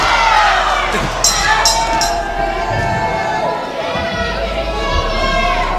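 A crowd at a pro wrestling event in a convention center roars and cheers steadily throughout, loud and continuous, with scattered shouts rising above the dense wash of noise.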